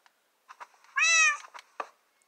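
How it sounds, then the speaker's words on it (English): A cat gives one clear, drawn-out meow at close range, with a few short, softer chirps and mews before and after it in an otherwise quiet room. "Shut up, cat."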